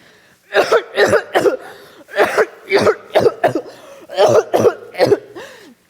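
A person coughs repeatedly in harsh, close bursts, grouped in clusters of three or four with short pauses between.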